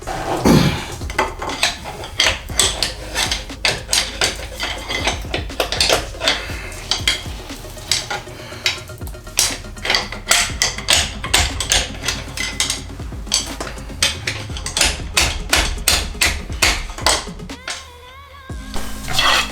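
Engine parts being pried apart with a large metal pry bar in a workshop during an engine teardown, giving repeated sharp metallic clanks, scrapes and knocks in irregular bursts, close and fairly loud.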